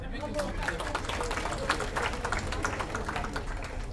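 A community gathering for elders applauds a local official, a dense, steady burst of clapping from the audience with some crowd babble and talk mixed in.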